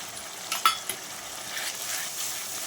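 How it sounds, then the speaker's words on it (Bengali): Ginger, garlic and chilli paste frying on medium flame for a Bengali katla posto fish dish, a quiet, even sizzle with a few faint spatula taps early on. "মশলাটা মিডিয়াম ফ্লেমে ভালো করে কষিয়ে নেব যতক্ষণ না মশলা থেকে তেল ছেড়ে দিচ্ছে"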